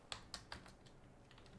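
Computer keyboard typing while entering Python code, a handful of sparse, faint keystrokes spaced apart with a quicker cluster near the end, no voices.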